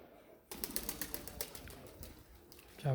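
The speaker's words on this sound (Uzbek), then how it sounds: "Kabutarlar." Pigeons cooing at a home garden, soft low coos repeating in a quick rhythm, fairly faint, with a fluttering rustle and a louder burst at the end.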